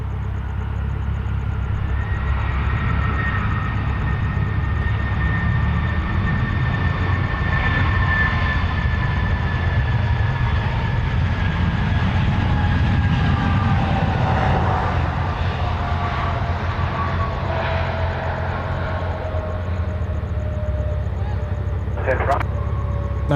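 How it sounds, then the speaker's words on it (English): A DHL Boeing 767 lands at Sydney Airport, its CF6 engines roaring steadily in reverse thrust with descending whining tones, heard loud and sustained from a distance for over twenty seconds. "Let's listen to these reverse thrusters,"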